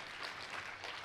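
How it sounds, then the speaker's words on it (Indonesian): A church congregation claps together in praise at a lively service, the applause a steady, diffuse patter that stays fairly even and moderately distant across the short moment. "Tepuk tangannya pula yang paling meriah buat Tuhan kita."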